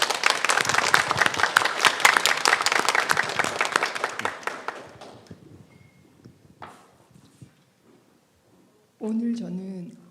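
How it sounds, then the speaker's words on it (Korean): A Korean church congregation applauds together for a church deacon, loud and dense at first and then thinning out. After a pause, a voice begins speaking. "자, 우리 김현 집사님 박수와 축복 한번 합시다."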